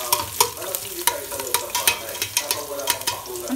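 Garlic and onions frying in a pan, a busy close sizzle broken by repeated sharp scrapes and clanks of stirring at a fairly regular pace, with no talk.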